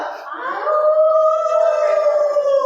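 Children imitate a wolf howl together, a loud sustained tonal wail that rises and then holds for about two seconds, with several voices blending into one drawn-out cry.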